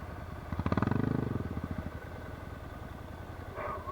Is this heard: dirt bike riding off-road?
yes